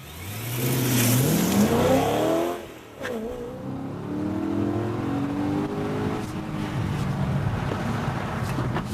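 BMW M3 on a test-drive cone course, its engine revving up loudly and rising in pitch as it accelerates, easing briefly, then droning on steadily with wind noise.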